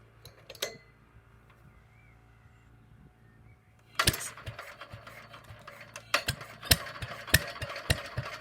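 A 1950 Petter A1 stationary engine with reverse rotation sits quiet with a faint hum before catching and running, giving a steady low thudding rhythm with sharp mechanical knocks and clatter close by.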